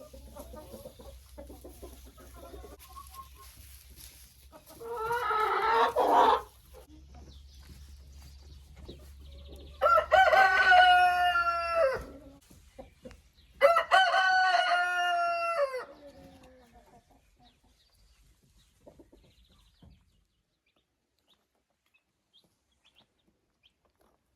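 Backyard laying hens and chickens cluck quietly, then a rooster crows loudly three times in a row with brief gaps between the crows. The sound then falls to near silence.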